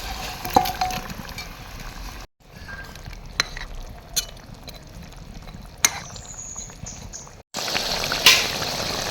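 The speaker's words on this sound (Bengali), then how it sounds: "এখন ভেজে রাখা মাছটা দিয়ে দেবো।" Pieces of fried fish simmer in boiling curry gravy in a pan, giving close, continuous bubbling with scattered sharp pops and crackles.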